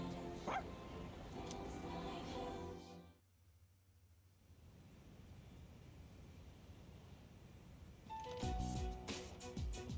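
A dog barks and yips in Persona 3 Reload, a few short barks at the start, then a quiet stretch before louder game sound returns near the end.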